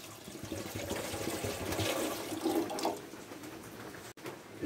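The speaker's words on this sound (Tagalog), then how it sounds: "Ito tayong kaserola. Lagyan natin tubig." Water pours steadily into a casserole pot in a home kitchen, a close, continuous splashing rush that rises slightly in pitch as it fills, then cuts off abruptly near the end.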